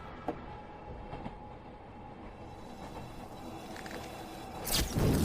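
Passenger train D5233 running, a steady low rumble of rail travel with faint clanks, rising to a louder rush at the end.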